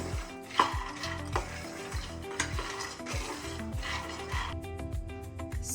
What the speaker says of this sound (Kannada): ನೆನ್ಪಿಟ್ಕೊರಿ, ಸ್ಲೋ ಫ್ಲೇಮಲ್ಲೇ ಹುರ್ಕೋಬೇಕು.